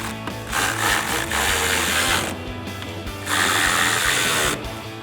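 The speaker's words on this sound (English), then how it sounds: "Tighten those back down with our 8mm socket." A socket ratchet tightens 8mm nuts holding a tail light on a 2015-2023 Dodge Charger. The pawl clicks fast and steady at close range, with a brief pause midway before the ratcheting picks up again.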